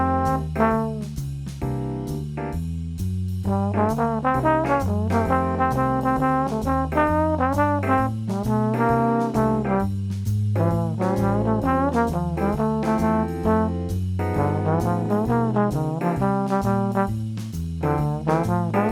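Jazz blues chorus in C built from ii-V-I melodic lines, played as a continuous run of single-note phrases over steady accompaniment, moderately loud and without any talking.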